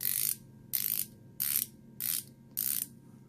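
A BlackHawk flex head ratcheting combination box wrench with a large heavy-duty pawl, ratcheted in five evenly spaced bursts of rapid, crisp close clicking separated by short pauses.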